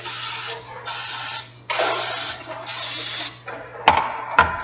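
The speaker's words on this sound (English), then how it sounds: "I'm going to prepare this cookie sheet by spraying in Baker's Joy" Baker's Joy baking spray hisses from an aerosol can onto a cookie sheet in a kitchen in four or five close, loud bursts, followed by a couple of sharp clicks and clatters.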